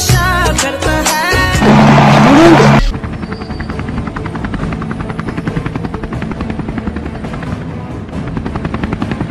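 Helicopter rotor chopping from a Hollywood action movie scene, loud and steady throughout, with a brief burst of music and whooshing effects at the start before the continuous thudding takes over.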